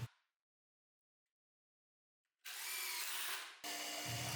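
After a brief knock and near silence, a power drill bores into a thick piece of ash wood with a loud, steady whirring grind that briefly dips then resumes.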